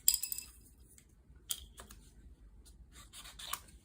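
Scissors snipping paper to make a bookbinding jig, a few short crisp cuts and faint rustles spaced across a few seconds in a quiet room.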